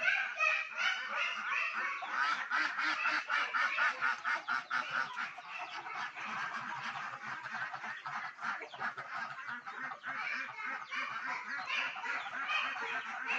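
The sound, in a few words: ducks and chickens on a farm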